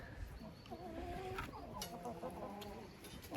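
Hens cluck and murmur nearby in a henhouse, several birds overlapping in a busy, fairly soft chorus with a few brief higher calls.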